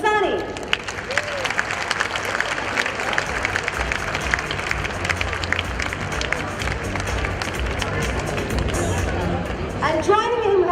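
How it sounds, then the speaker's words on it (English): At a literary festival, a large audience applauds to welcome a speaker on stage, with dense, sustained clapping and crowd murmur throughout and a voice over a microphone at the start and end. "please welcome with a big round of applause on stage, Zarir Masani"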